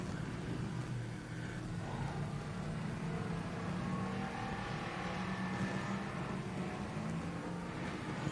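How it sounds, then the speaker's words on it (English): Several Crown Victoria race cars circle a dirt speedway at Needmore Speedway in Norman Park, Georgia, a continuous engine drone rising and falling at a distance with no talking. "what should be 3 total of our Crown Vics out onto the racing surface"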